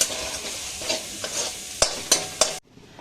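Food sizzling in a pan in a small home kitchen while being stirred, with a steady fry hiss broken by several sharp spatula scrapes and clacks, close and clear, then cutting off abruptly into near silence.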